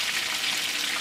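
Chopped onion and carrot frying together in a pan give a steady, close, dense sizzling hiss that runs unbroken for the whole second, with no voices over it.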